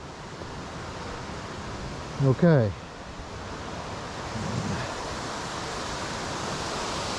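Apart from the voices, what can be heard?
creek water rushing down into a sinkhole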